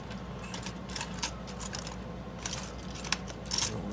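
A set of keys jangles on a Sterling padlock with light, metallic clinks and rattles in irregular bursts, close and fairly quiet.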